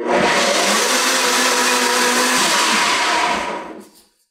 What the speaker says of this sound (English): All you got to do is blend it up.